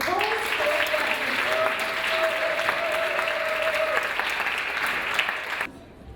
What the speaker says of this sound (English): All the charities, let's give them a really big round of applause.